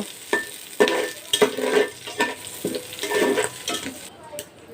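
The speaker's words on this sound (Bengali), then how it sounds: "তেলে আমি কালো সরিষা জিরা আর শুকনো লঙ্কা দিয়ে দিলাম এটিকে এখন একটু নেড়ে নেব" Black mustard seeds, cumin and dried chilli frying in hot oil as they are stirred: an uneven series of scraping stirs and crackling bursts over a continuous sizzle, close by, easing off near the end.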